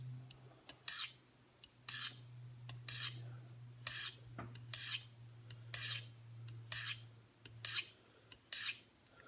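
Knife blade drawn in repeated rasping strokes across the smooth side of a Microforge sharpener, about ten regular scrapes with a steady low hum underneath, close and fairly quiet.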